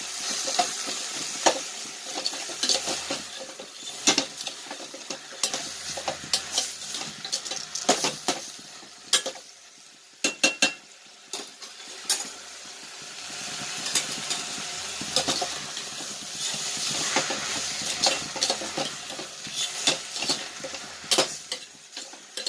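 Small onions and tomatoes sauté in sesame oil for a fenugreek curry, giving a continuous sizzle and fry hiss with frequent scraping stirs and spoon clinks, steady throughout with no talking.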